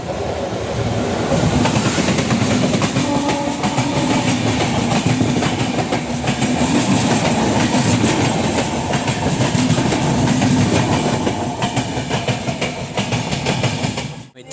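A train rolls past close by in the rain at Kankavli railway station with a continuous loud rumble and a steady clickety-clack of wheels on the rails.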